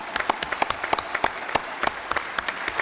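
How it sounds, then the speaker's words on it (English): Warm audience applause in an assembly hall welcoming Ukraine's president at an OSCE meeting in Warsaw, a steady wash of clapping with distinct sharp claps standing out throughout. "We all welcome you with a warm applause"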